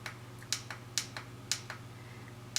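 A curling wand's button is pressed repeatedly, giving a series of small, crisp clicks spaced about every half second, close and quiet over a faint steady hum.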